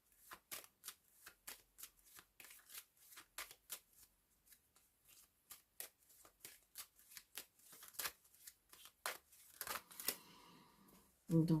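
Playing cards used for a tarot-style reading are shuffled and laid down one after another, a long run of quiet, close, sharp flicks and taps at a fairly steady pace, with a slightly louder rustle at the end.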